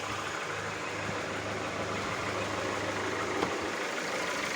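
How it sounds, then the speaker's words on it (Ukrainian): A steady, low engine idle from a 2017 Ford Connect 2.5 petrol hums evenly throughout, quiet and continuous with no revving or other sounds. "мотор тихо собі працює"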